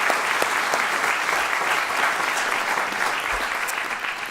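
Steady audience applause fills a civic hall during a suburban city's annual State of the City address, a dense, even wash of clapping that holds loud throughout before easing slightly at the end.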